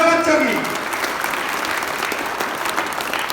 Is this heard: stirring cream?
no